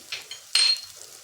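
Turmeric and chili powder being stirred into a pan for a village-style whole tur (pigeon pea) curry, heard as a few light metallic scrapes and clinks of a spoon against the pan, with one louder scrape in the middle.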